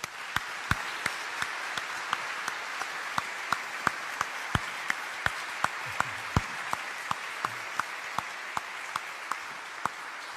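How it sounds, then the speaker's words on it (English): Sparse, scattered claps from a book-tour audience at Sixth & I, individual hand claps spaced irregularly over a quiet room background, moderately faint and without speech. "Thank you for clapping"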